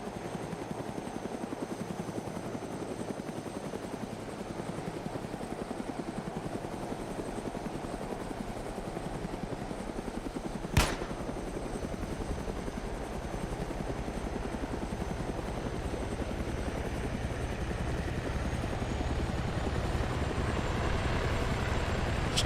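Helicopter flying in the combat game Arma 3, a steady, loud rotor and engine drone running throughout, with one sharp click partway through and no talking.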